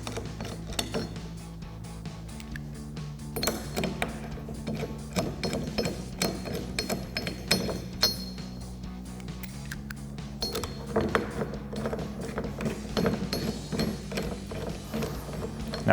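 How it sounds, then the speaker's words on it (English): A ratchet with a 15mm socket spins factory nuts onto the factory studs of a 2004-2023 Ford F-150 front strut with a billet leveling spacer, giving a steady run of fine mechanical clicks close by, alone with no voices. "we'll take our factory nuts and put those through the holes onto our factory studs using a 15mm socket"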